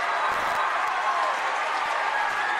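A crowd applauds a basketball team at an Iowa 2A substate high school game between Spirit Lake and Unity Christian. Broad, dense clapping and crowd noise fill a gym, loud and continuous throughout.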